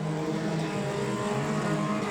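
Junior sedan race cars, including a Hyundai Excel, running on a track at Collie: steady, loud engine drone with layered revving tones, continuous throughout with no pauses.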